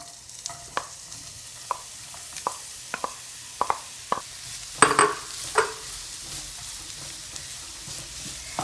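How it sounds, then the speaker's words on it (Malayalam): Chopped onion frying in hot oil in a pan, with a soft continuous sizzle under a string of sharp scraping and clinking spatula strokes at irregular intervals, heard close up without speech. "ഇനി നമുക്ക് ഒനിയൻ ആഡ് ചെയ്ത് കൊടുക്കാം"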